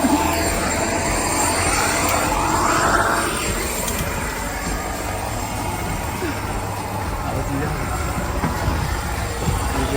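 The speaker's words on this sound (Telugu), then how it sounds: "స్కీ ప్లేన్ లో వెనక్కి వెళ్ళబోతున్నాం" A small ski plane engine drones loudly and steadily throughout on a glacier tour, with voices faintly audible under the roar.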